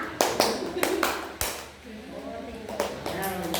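Five distinct hand claps in a steady counting rhythm during a numeracy exercise, loud and near, with a voice talking between and after them.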